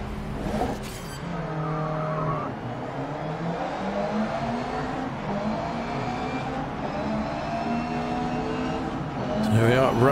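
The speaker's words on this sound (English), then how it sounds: "Here we are at Brands Hatch in the Ginetta doing some GT3 racing." Ginetta GT3 race car lapping Brands Hatch in Grid Legends VR, its engine note rising and falling through gear changes under steady commentary from someone talking throughout.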